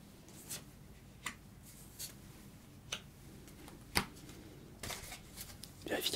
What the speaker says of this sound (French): on enlève les deux énergies et nous allons disposer les cartes